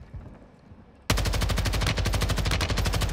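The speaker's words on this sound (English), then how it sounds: "Have we just not tried this in full auto mode?" Warzone gun firing on full auto: after a second of quiet ambience, a sudden sustained burst of rapid, evenly spaced shots starts and runs without a break, loud and close, with no talking.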